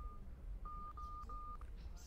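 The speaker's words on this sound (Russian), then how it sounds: "Пикает вот здесь." A treasure detector in a video game beeps in several short, steady electronic tones that come closer together, faint against a low background hiss.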